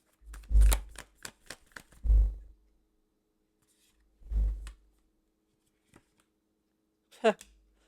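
Several quick papery riffles of tarot cards being shuffled up close, in short bursts separated by pauses, with a faint voice at the end.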